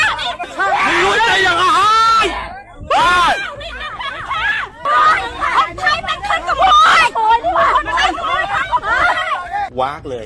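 A crowd of people yelling at a barbed-wire border fence, loud overlapping shouts and raised voices in a constant dense clamour with brief pauses.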